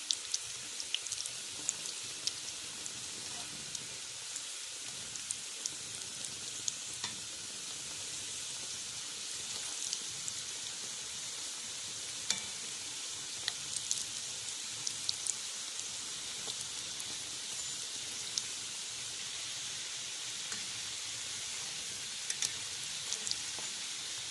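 Rounds of pişi dough frying in hot oil give a steady, soft crackling hiss with scattered pops, continuous and fairly quiet, with no talk.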